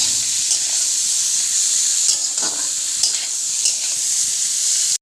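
Vegetables with soaked cashews and raisins fry and are stirred in a pan for fried rice, a steady loud sizzle with occasional scraping strokes throughout, no voices.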